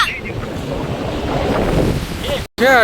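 Sea waves roll onto a beach at high water, a steady broadband wash of surf with wind buffeting the microphone, continuous and fairly loud before a brief dropout near the end.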